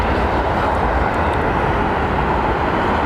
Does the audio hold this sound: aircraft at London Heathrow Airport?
yes